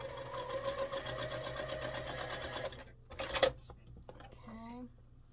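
A sewing machine runs in a fast, steady stitching burst while sewing a quilt block seam, then stops. A brief clatter follows, and a voice speaks near the end.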